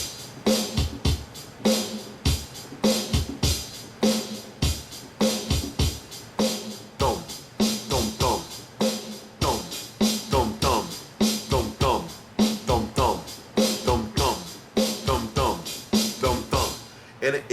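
A steady, driving drum beat with rapid hi-hat ticks and punchy snare hits repeating in a tight rhythm, loud and close.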